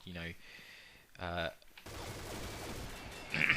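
Gunfire from MP7 and T2 guns in the Combat Arms video game: after two short bursts of voice, a dense, sustained rattle of rapid shots runs for about two seconds, growing slightly louder near the end.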